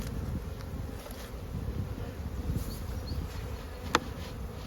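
Honeybees hum steadily around an opened spring hive on a cool morning, a dense low buzz with individual insects passing close by and a brief sharp click near the end.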